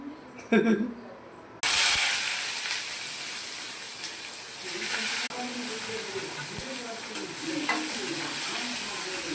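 Mustard and fenugreek seeds sizzle in pure groundnut oil for a fried fish curry: after a brief quiet moment a loud, steady hiss of frying bursts in and continues close and unbroken.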